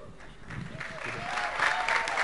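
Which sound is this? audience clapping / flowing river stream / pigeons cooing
audience clapping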